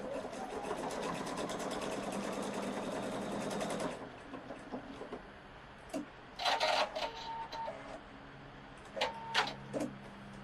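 A Pfaff 710/720 sewing machine stitches a leaf design in a fast, steady whir for about four seconds, then stops, leaving scattered clicks and short mechanical bursts nearby.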